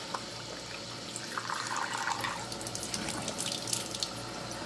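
Tap water runs steadily into a sink while someone rinses their face during a skincare routine, a close, continuous splashing hiss with small irregular drips and spatters.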